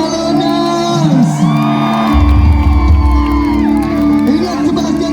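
Crowd at a live show at Pentastik.id Fest Makassar 2023 whooping and screaming loudly and continuously, with voices and music layered underneath.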